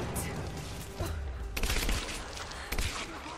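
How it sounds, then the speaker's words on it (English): Rapid bursts of gunfire from Rise of the Tomb Raider, a loud fusillade with a few heavier booming shots over about three seconds, with no talking. "I shot him in the head multiple times and he was alive"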